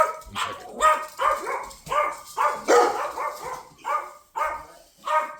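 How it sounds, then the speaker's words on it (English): A dog barks repeatedly indoors, a rapid run of loud, close yelps and barks coming in steady bursts, with some whimpering and no speech. "my dog's going fucking nuts"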